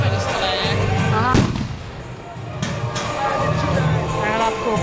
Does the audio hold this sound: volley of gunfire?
yes